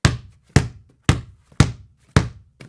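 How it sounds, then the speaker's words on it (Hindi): Knuckles rap on the wooden door of a house at night in five sharp, evenly spaced knocks about half a second apart. Each knock is a loud, dry thud that dies away quickly into silence. "फिर वह उस घर का दरवाजा खटखटाती है।"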